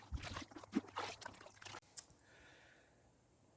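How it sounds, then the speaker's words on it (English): FOK koi pond clay mixture is poured into fish pond water, giving a short run of splashing, trickling pours that stops abruptly and leaves faint background hiss. "So I'm going to keep pouring this in."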